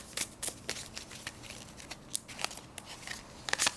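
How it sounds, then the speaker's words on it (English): A deck of astrology cards is shuffled by hand in close, quiet riffles and soft slaps, with sharp papery bursts recurring irregularly throughout. "going to shuffle some astrology cards to see if we can get some more information on this"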